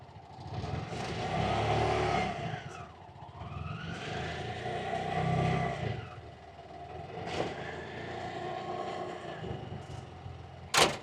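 A tuk-tuk engine in Indonesia revving up and accelerating in several rising surges, close and fairly loud, with a sharp knock at the end.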